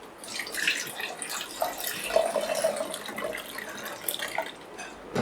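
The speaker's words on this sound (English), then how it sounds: "then pour in some water for initial wash" Water splashes and trickles steadily into a film developing tank for a wash, a continuous pouring with faint drips and gurgles.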